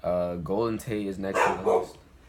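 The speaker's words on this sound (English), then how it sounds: "Sorry, that's my dog." A dog barks several times in the background while someone talks about football, short sharp yelps breaking between his sentences.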